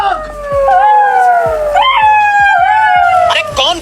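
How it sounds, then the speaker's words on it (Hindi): A dog howling, loud and close, in long wavering tones that rise and fall, mixing with siren-like wails, with no clear barking. "अरे कौन भौंक रहा है ये बदतमीज?"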